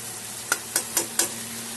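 Joha rice tossed into fried spice paste in a pan gives a soft steady sizzle, broken by four sharp scraping clicks of a spoon stirring against the metal.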